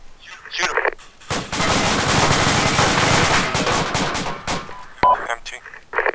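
Rifle fire in the military shooter ARMA 2 during a tactical rifle and urban combat training course: a long, dense burst of rapid gunshots from several weapons, loud and close, with brief voices before and after.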